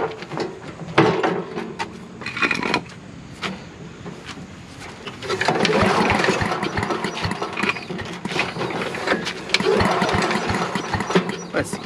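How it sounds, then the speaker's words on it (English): Repeated hard pulls on the starter cord of a Little Wonder walk-behind leaf blower, each a short rough rasp with a rattling turnover of the motor and fan assembly, up close, with someone talking in between. "Man, does this thing pull over hard?"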